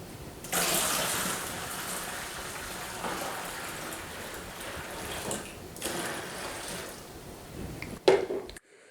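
Half a gallon of clean filtered water pours into a pot in a steady, moderately loud gushing stream lasting several seconds, then a brief clunk as it ends.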